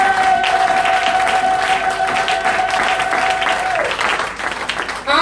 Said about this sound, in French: Acclamons Jésus